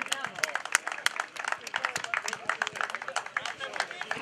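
An audience at a football club's 65th anniversary ceremony applauds with brisk, dense clapping that runs steadily throughout, with murmured voices mixed in.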